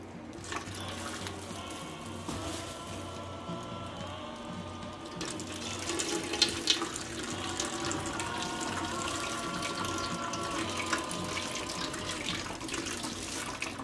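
Tap water runs steadily over blended peanuts being rinsed for horchata, a continuous gushing flow that grows brighter and fuller midway as the stream shifts, close and alone with no voices.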